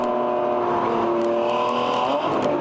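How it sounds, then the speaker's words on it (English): A race car in a ChampCar endurance race at NCM Motorsports Park drives toward turn 18. Its loud, steady engine drone climbs in revs near the end as it enters the corner. "You'll hear the revs come up just as he's going into the corner."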